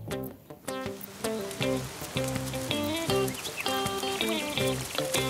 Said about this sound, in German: Oh nein, es regnet.